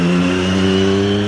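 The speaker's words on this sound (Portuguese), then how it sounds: "O icônico motor da Triumph de 3 cilindros em linha, que tem aquele sonzinho," A Triumph Daytona 675R sport motorcycle's inline three-cylinder engine holds a loud, steady high rev, close up and alone, with a rich buzzing tone and no talk.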